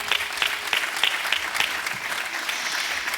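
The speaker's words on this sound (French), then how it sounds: "Ces acclamations sont pour toi." Continuous clapping and acclamation from a church congregation, fairly distant and steady throughout, with no voices standing out.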